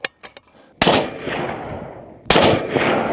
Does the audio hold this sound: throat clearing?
no